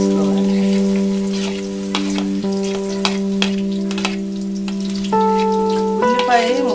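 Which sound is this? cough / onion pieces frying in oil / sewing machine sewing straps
onion pieces frying in oil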